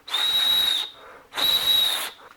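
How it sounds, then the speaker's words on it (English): A survival whistle on a paracord bracelet gives two long, shrill, piercing blasts, each close and loud with a breathy edge and a short pause between them. "first thing we're going to do is check out the whistle"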